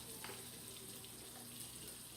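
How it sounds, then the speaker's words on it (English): Water runs steadily from a kitchen faucet into a sink while vegetarian mushroom pasta is being made, a soft continuous hiss and trickle with no talk over it. "So we just running a little bit this water here"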